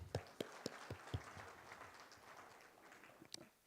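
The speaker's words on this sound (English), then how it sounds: "Let's give them a hearty clap." An audience at the launch of a university annual research week applauds the students: a few sharp, separate claps at first, then they merge into a steady, moderately distant wash of applause that fades at the end.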